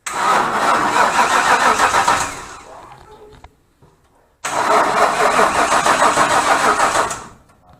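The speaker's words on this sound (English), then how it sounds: "Better crank that key a couple more times." A 1958 Ford F100 pickup that has sat for years cranks loudly and steadily for about three seconds, goes quiet briefly, then cranks again in a second long, close burst.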